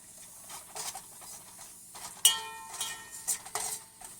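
A spoon scrapes and clinks against a pan while masala for prawn curry sizzles quietly in oil, the stirring strokes irregular and close by.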